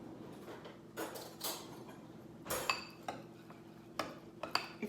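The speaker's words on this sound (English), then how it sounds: "Brown sugar and the pecans. And I'm just going to mix this all together." A spoon stirs brown sugar and pecans together in a bowl for a sweet potato casserole, giving scattered soft scrapes and light clinks against the bowl at an irregular pace, fairly quiet.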